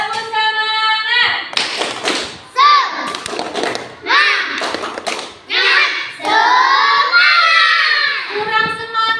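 Schoolchildren in a classroom do an Indonesian spirit clap, tepuk semangat, chanting loudly in unison with bursts of rhythmic clapping and thumps that repeat across the whole stretch.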